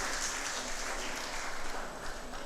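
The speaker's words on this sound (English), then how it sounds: "let's clap for our panelists and reviewers" Audience members at a conference session on cooking fuels and climate change applaud panelists and reviewers, a faint, steady patter of clapping heard from a distance.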